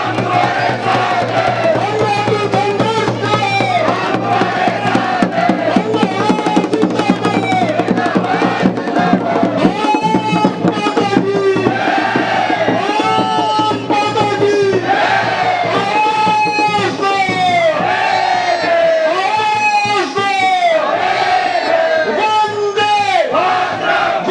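A large crowd at a political rally in Srinagar, Uttarakhand, cheering and shouting loudly and continuously, with dense applause and raised voices filling the whole stretch.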